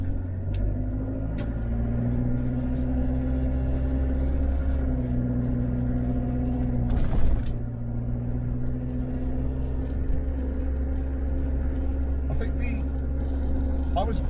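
A Range Rover Classic P38 with a diesel engine and automatic gearbox drives along a road, a steady low engine drone and road rumble heard from inside the cabin, with a few brief knocks and clicks.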